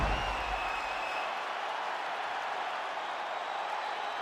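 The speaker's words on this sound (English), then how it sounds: "the crowd voicing its appreciation after that round" A UFC lightweight main-event crowd applauds and cheers after a fight round, a dense, even wash of clapping and arena noise that carries on steadily throughout.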